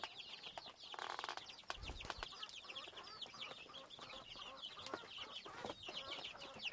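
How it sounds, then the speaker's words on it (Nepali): Chickens cluck and chatter in a Nepali village farmyard where goats and parrots are also kept, a dense run of overlapping calls that carries on steadily throughout with no talking. "कुखुराहरू नै छ हेर्नु न"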